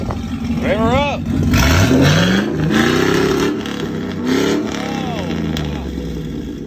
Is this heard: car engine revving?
yes